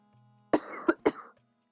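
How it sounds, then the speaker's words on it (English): Three quick coughs from a video game character in a medieval castle court setting, loud and close, standing alone with no talk over them. "A well-timed cough."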